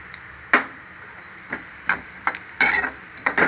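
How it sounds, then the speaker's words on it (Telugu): Cumin seeds fry in a pan, a series of sharp crackles and pops arriving in irregular bursts over a quiet background. "ఇది కొంచెం వేగాక జీలకర్ర వేసుకున్నాం"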